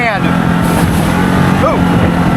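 Can-Am Maverick XMR Sport UTV engine cruising at about 5,000 RPM and 23 mph over hard-packed wet sand, giving a close, steady droning hum with faint voices briefly over it.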